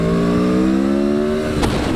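Aprilia Tuono V4 1100cc motorcycle engine running with a steady, loud, buzzing tone that shifts slightly as it revs, with a sharp burst near the end.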